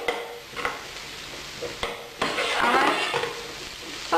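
Mushrooms, onions and celery frying in seasoned butter in a pan, a soft steady sizzle broken by several spoon scrapes and stirring knocks, swelling louder midway as the pan is worked.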